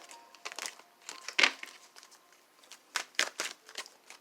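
Soft, irregular papery rustling and flicking of tarot cards being shuffled by hand, close but quiet, with a few sharper snaps.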